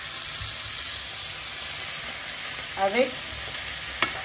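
Onions fry in a pan with a broad, steady sizzling hiss and a couple of brief scraping stirs near the end; a single word is spoken.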